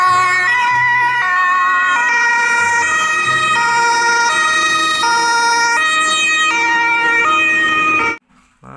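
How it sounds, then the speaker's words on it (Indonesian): A toy ambulance plays an electronic siren, a loud, close melodic wail of stepped tones repeating for about eight seconds before it cuts off abruptly. "di sini ada mobil ambulan"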